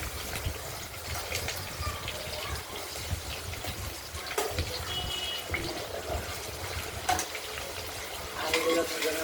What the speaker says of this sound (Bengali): এবার আলুগুলো ভালো করে ভেজে নেব।